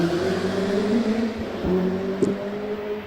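A 2-litre single-seater hillclimb race car at a British Championship hillclimb at Doune runs at high revs in a steady, loud, buzzing drone. A brief sharper spike breaks it near the middle, and no one talks.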